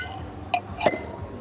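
A champagne bottle being sabered open with a wine glass outdoors in the mountains, heard as two quick, faint glassy clinks, the second a sharper crack, over quiet background.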